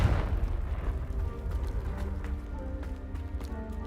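Confringo fire spell explosion in the video game Hogwarts Legacy, a deep booming blast at the start that rumbles and decays into low crackling debris, fairly close.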